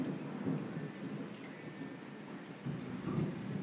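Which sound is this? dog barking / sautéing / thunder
thunder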